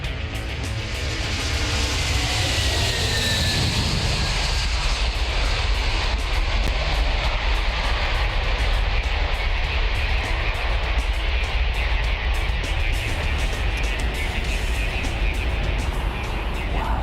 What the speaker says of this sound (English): This is it, the Antonov 225, the biggest plane in the world, 500 tons of it now. It's taxiing.